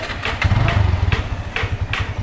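A Kawasaki motorcycle engine idles and pulses close by, with uneven throbbing beats and brief revs of a mid-pitched motor.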